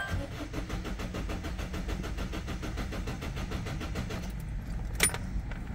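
Citroën Berlingo B9 1.6 HDi 16V diesel being started after an oil change, with a steady rapid clatter of cranking that ends in a sharp click near the end, heard close and fairly quiet.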